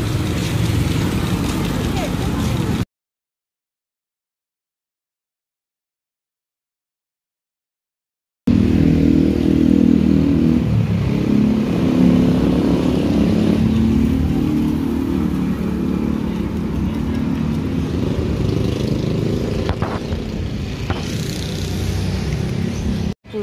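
A Japan surplus motorcycle engine idles and revs in a continuous, loud mechanical drone, interrupted by a gap of silence, with people talking over it.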